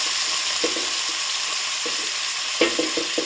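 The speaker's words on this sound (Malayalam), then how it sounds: "ഇനി നമ്മളെ ഉള്ളി, പച്ചമുളക്, കറിവേപ്പിലെല്ലാം കൂടി ഒന്ന് വറക്കണം." Onion, green chili and curry leaves frying in a pan, an even sizzle with occasional stirring scrapes and clicks, loud and close, no voices.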